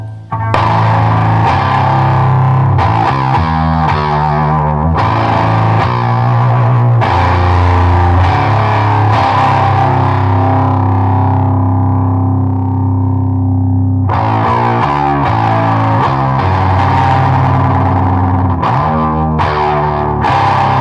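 Electric guitar played through a TC Electronic Eyemaster distortion pedal, loud gritty sustained chords and riffs with a thick saturated tone, ringing out alone with a short decaying pause midway before the playing resumes.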